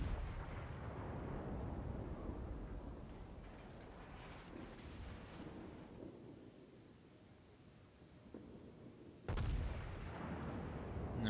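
Secondary battery guns firing from the battleship Tirpitz in World of Warships, a continuous low rumble of distant booming shots with one sharper blast near the end.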